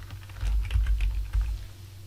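Fingers typing on a computer keyboard to enter data into a form, a close run of uneven key clicks in small clusters with short pauses between them.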